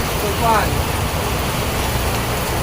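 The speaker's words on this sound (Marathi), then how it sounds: "मुळात आता पाऊस पडतोय" Steady broadband hiss of rain falling, continuous and fairly loud, with a brief voice-like sound near the start.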